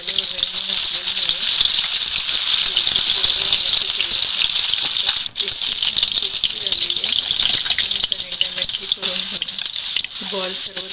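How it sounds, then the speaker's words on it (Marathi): Mutton kofta balls frying in hot oil, a loud, continuous bright sizzle that holds steady throughout, with a few soft tonal squeaks rising over it now and then. "बॉल सर्व तळून घ्यायचा."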